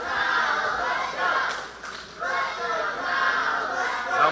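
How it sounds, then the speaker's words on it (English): Wrestling crowd in an arena cheering and shouting for Kyle during a match, a continuous roar of many voices that swells and dips, with chatter mixed in throughout. "Crowd getting behind Kyle again. Crowd needs to shut up."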